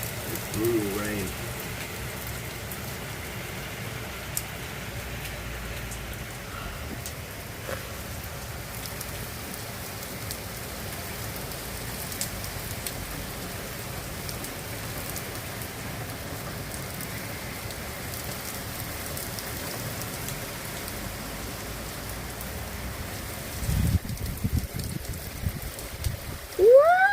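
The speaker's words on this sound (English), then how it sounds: "Ooh, rain." Steady rain pours down during a thunderstorm in Dukinfield, UK, a constant even hiss throughout, with excited voices breaking in near the end.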